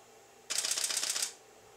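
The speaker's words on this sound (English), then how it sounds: "Just as each drop falls, we'll just grab and hold the shutter." A camera shutter fires in a rapid burst while water drops are photographed, a quick run of crisp clicks lasting under a second in an otherwise quiet room.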